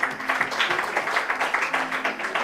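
A church congregation applauding in steady, dense clapping that runs throughout, moderately loud and fairly close, with no clear talk over it.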